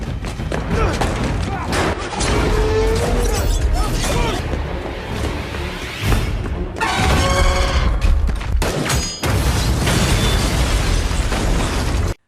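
A gas tank full of magnesium oxide explodes in a film action scene, a loud booming burst with crackling debris and further pops over several seconds.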